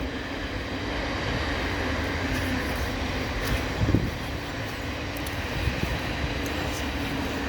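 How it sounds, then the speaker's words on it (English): A train rumbles past at a distance, a steady low roar with faint rattles and squeals over the top, no voices. "There goes the train."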